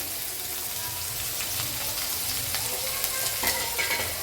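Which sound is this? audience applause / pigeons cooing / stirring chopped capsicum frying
stirring chopped capsicum frying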